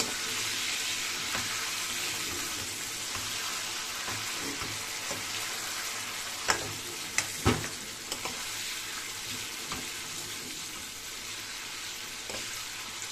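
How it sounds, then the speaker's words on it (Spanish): Ingredients for chicken and rice, including large garlic cloves, frying in a pan, a continuous close sizzle with a few sharp clicks and pops near the middle, no voices. "Ya se está friendo todo"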